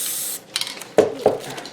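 Glue sprays in a short hiss along the edges of a gift box, followed by a few light knocks and taps as the box is handled, close up.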